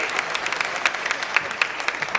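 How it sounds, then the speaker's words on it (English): An audience at an astrology lecture applauds to wish the speaker a happy birthday, a steady patter of claps from a modest crowd that stays even and mid-level, with sharper individual claps standing out. "Can we have a round of applause for her to wish her a happy birthday?"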